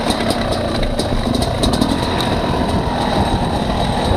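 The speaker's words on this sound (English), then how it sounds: "You can hear the crisp sound of the engine." A loud motorcycle engine fitted with a SmartCarb SC2 carburetor drones steadily at close range, a constant mechanical hum with faint rhythmic ticking on top.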